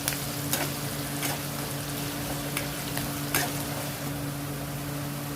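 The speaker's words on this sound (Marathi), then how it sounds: "आपण कांदा चांगला फ्राय करून घेणार" Onions frying over a high gas flame for aloo biryani, a steady close sizzle with a few faint stirring clicks and a low constant hum underneath.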